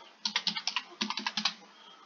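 Username being typed on a computer keyboard at a school learning-platform login: two quick bursts of about six to eight crisp key clicks each, close and clear, separated by a short pause, with no talk.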